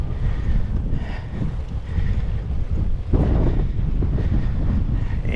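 Strong wind buffets a microphone on a bicycle ride past oceanfront streets in Alkmaar, North Holland, a loud, continuous rumbling roar with gusting swells and no speech.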